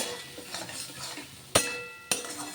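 Chana dal coated in ground coriander and turmeric is stirred in a pan, giving a soft, steady scraping with two sharp metallic clinks of the spoon against the pan near the end.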